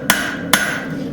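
Two sharp, ringing blows of a straight peen hammer on a hot railroad spike being drawn out and thinned into a knife blade, evenly spaced, close and loud.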